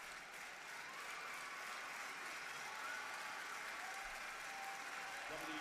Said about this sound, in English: applauding this great matchup for the Women's Intercontinental title